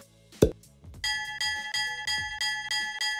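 A short thump, then a bright ringing bell sound effect repeating in steady, even strikes with sustained overtones, clean and alone with no talk.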